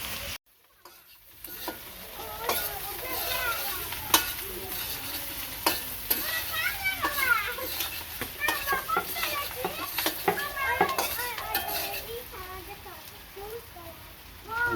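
Cumin paste fries in a pan for a raw jackfruit biryani, with a steady sizzle broken by repeated scraping stirs of a spoon against the pan, close and fairly loud, and faint background voices now and then.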